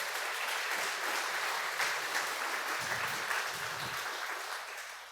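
A church congregation claps continuously and evenly, a dense wash of applause that tapers off slightly at the end.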